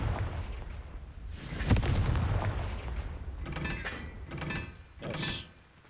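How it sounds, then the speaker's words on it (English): The Confringo fire spell is cast in the video game Hogwarts Legacy, producing a run of loud, rumbling fiery blasts and crackling bursts that surge and fade repeatedly over several seconds, with no talking. "Maybe if I set it on fire? Confringo."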